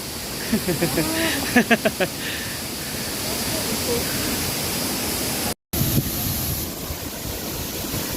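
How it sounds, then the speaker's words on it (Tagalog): Abungan Falls waterfall in Dingalan, Aurora, roaring as a steady broadband wash of falling water throughout, with brief clattering sounds early on and a momentary dropout near the middle. "Narito na tayo sa Abungan Falls."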